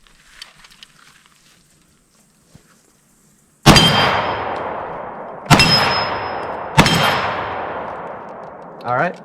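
A Hungarian AMD AK-47 fires 7.62 rounds at targets: three loud, sharp shots spaced about one to two seconds apart, each followed by a long echoing decay outdoors, after a quiet lead-in.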